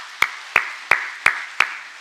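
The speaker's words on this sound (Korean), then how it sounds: "우리 박수로 하나님께 영광 올려드리겠습니다." A church congregation claps in unison: five sharp, evenly spaced claps in a steady rhythm, each landing together with a short echoing tail in a reverberant hall.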